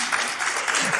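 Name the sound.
audience applause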